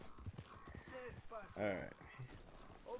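Horse hooves galloping on a ridden horse in the Red Dead Redemption 2 video game, a steady clip-clop rhythm running under continuous talk, with a brief whinny-like burst in the middle.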